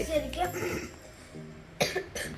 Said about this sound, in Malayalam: ചെറിയ ഒരു ചുമയും ത്രോട്ടൊക്കെ ഒരുമാതിരി ഒരു കിച്ച് കിച്ച് ഉണ്ട്